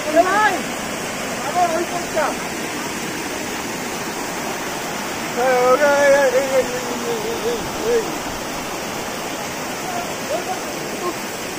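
Steady broadband rush of Ghaghkocha waterfall in Purulia, a continuous roar of falling water filling the scene, with people talking intermittently over it.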